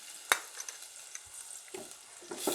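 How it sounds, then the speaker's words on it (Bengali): Onions fry in oil left over from frying hilsa fish, a soft, steady sizzle broken by a sharp clack of a utensil early on and a few quieter stirring scrapes. "এবার আমি তেলের মধ্যে পেঁয়াজটা দিয়ে দিয়েছি"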